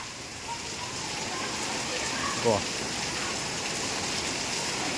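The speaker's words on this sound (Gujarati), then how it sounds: "વરસાદ ચાલુ થયો" Steady hiss of rain falling on a surface, broad and constant throughout, with a faint brief voice in the middle.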